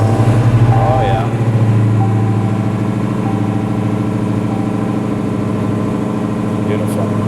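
A TorRed Dodge Challenger idles with a steady, low, throbbing rumble that holds even and close throughout, with a voice briefly heard over it.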